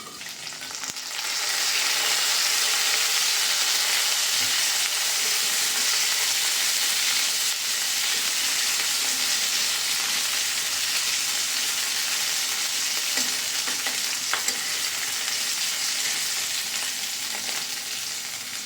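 A fasting bhakri flatbread roasts on a hot pan with a steady, close sizzling hiss that rises after a quiet start and holds evenly for a long stretch, with no talking.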